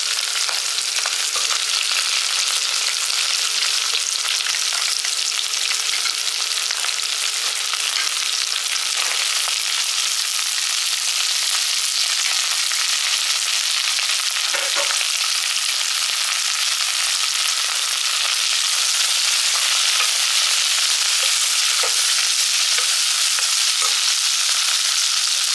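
Onion, carrot and beans sizzle steadily in a pan, a continuous bright frying hiss with occasional stirring scrapes and no talk.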